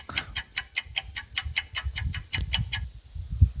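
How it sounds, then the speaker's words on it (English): A clock ticks steadily at close range, about a dozen evenly spaced crisp ticks that then stop, leaving a faint low hum. "the ticking of the clock."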